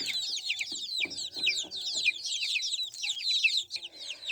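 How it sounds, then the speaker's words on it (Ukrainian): A group of young chickens clucking and cheeping continuously, close by, with overlapping calls from several birds and no talking. "курчата наші підросли вже є"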